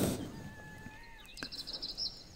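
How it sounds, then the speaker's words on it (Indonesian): A helmeted friarbird, a Lesser Sunda endemic, gives faint, thin whistled notes followed by a brief buzzy rattling phrase, heard quietly at a distance against a soft background. "Salah satu burung endemik dari kawasan Lesser Sunda ini adalah cucak timur."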